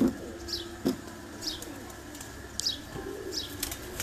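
Misse pigeons coo from a rooftop in a few soft, spaced phrases, with faint chirps and a brief flutter mixed into steady outdoor background noise.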